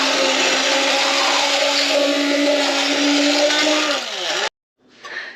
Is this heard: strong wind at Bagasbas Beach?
no